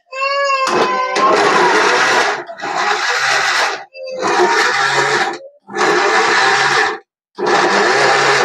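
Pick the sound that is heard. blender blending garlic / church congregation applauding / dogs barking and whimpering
blender blending garlic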